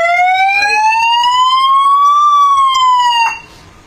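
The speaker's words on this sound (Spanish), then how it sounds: "Tenemos sirena también, si queréis la ponemos." Siren on a camouflaged electric police motorcycle at an electric vehicle expo: a loud, steady wailing tone that slowly rises and falls once before cutting off abruptly, heard up close with no speech over it.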